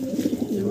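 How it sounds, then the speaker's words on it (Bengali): A pair of Lahori pigeons coo close by in a soft, rolling series of low throaty pulses, several quick coos running together in a brief burst. "খুব সুন্দর এক জোড়া কবুতর"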